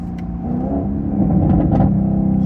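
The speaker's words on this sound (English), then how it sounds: "And the downshift is crazy." A 500 hp Camaro with a burble tune rumbles loudly through a downshift, the engine note swelling with a rev, and a few sharp exhaust pops and crackles break through partway.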